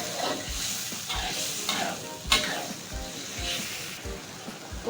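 Half-fried tofu and shrimp being stirred in a sizzling pan, with a steady frying hiss broken by regular scraping strokes of a spatula about every half second, close and clear.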